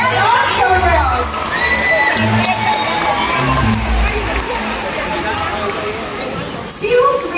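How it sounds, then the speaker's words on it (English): Audience at a SeaWorld Orlando killer whale show cheering and clapping, a dense, loud crowd roar with scattered shouts and children's voices sustained throughout, with an amplified announcer's voice over the top. "How about a great big round of applause for our volunteers and our killer whales?"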